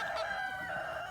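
A rooster on a farm with chickens and geese gives a short, clear, fairly quiet crow, tonal and sustained, heard alone.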